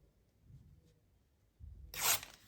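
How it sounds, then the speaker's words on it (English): A small piece of paper is torn in one quick, crisp rip near the end, after soft handling rustles. "I might just tear off a little bit of this"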